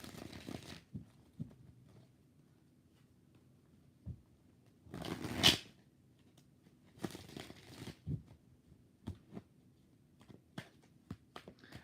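Tarot cards shuffled by hand in bursts during a live reading, with brisk riffling flurries and scattered soft taps between them, quiet and close with no talk.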